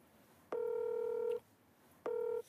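Telephone dialing tones beep twice, each a steady loud keypad tone, the first lasting almost a second and the second shorter, over a quiet background.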